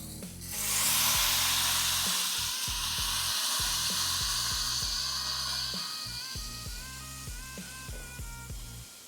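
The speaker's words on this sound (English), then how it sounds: "hear that sizzle?" A smash burger patty sizzles loudly on a hot griddle, a bright steady hiss that slowly fades, with a low tonal hum underneath.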